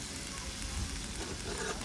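Thin slices of beef brisket sizzle softly in a pan over a low flame at a campsite, a steady low crackle and hiss without talk.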